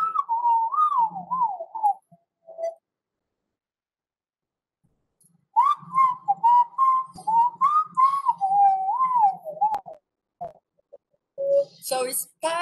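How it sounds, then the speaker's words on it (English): A man whistles a wavering melody in clear, close phrases, pausing for a few seconds mid-tune before resuming, with a few faint clicks and a brief burst of other sound at the end. "we added the whistling guy just to show how easy it is"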